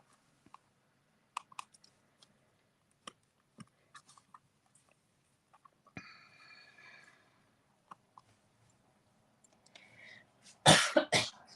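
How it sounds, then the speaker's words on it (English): A single sharp cough bursts out near the end, loud and close, following a quiet stretch of scattered small clicks and taps from papercraft work at a desk. "a cough, tickle in my throat"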